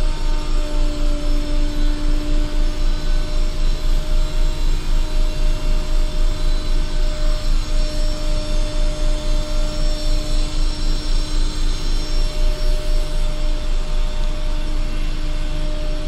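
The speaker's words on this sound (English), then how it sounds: "Danfoss turbo core compressors. Now these sound so good." Danfoss Turbo Core brushless compressors run in a mechanical room with a steady, loud mechanical drone and a high whine, continuous and close throughout, with no talk.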